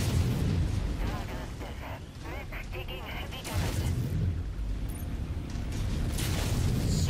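Booming cannon shots and explosions in the game MechWarrior 5, with heavy low rumbling bursts, mechanical clatter and scattered pops over a dense battle din.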